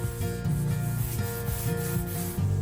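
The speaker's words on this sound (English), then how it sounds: "After doing another light sanding with a really fine sandpaper, I moved on to my second coat" Fine sandpaper rubs back and forth over a painted IKEA Billy bookcase in a light sanding pass, giving steady close scratchy strokes with short pauses between them.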